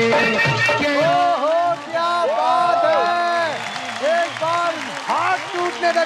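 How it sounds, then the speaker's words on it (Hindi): A television singing-competition audience applauds and cheers for Dharmendra, the clapping mixed with loud melodic singing and music that carry strongly throughout. "तालियां for the living legend Dharmendra ji sir"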